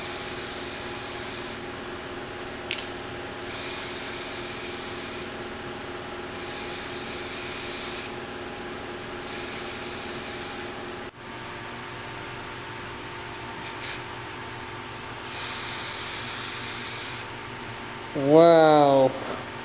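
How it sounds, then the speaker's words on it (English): Spray.Bike Framebuilders Zinc primer hisses from an aerosol can onto a bicycle frame in repeated bursts of a second or two, separated by pauses with a steady background hum. "But first I need to put the primer on using the Spray.Bike Framebuilders Zinc primer"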